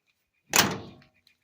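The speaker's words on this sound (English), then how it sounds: "typical square body door that won't close." A single solid metal clunk as the door of a 1976 Chevrolet C10 square-body pickup is swung shut and fails to latch, close and loud, followed by silence.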